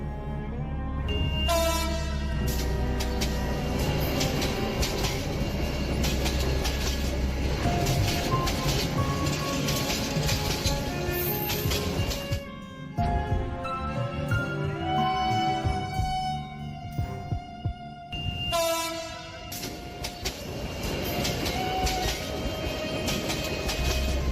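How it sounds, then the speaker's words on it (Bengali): A train runs along the rails as a sound effect in a narrated story, a continuous loud rumble with rhythmic clickety-clack from the wheels. The noise thins out briefly around the middle and near the end, and no voices are heard. "বন্ধু সুকান্ত থেকে বিদায় নিয়ে আমি ট্রেনে ঢাকার উদ্দেশ্যে রওনা হই"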